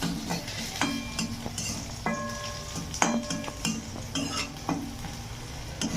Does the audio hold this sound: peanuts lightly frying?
yes